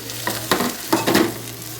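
Potato pieces frying in oil for an aloo tomato curry, a soft sizzle broken by several stirring scrapes in uneven bursts, close and moderately loud with no speech.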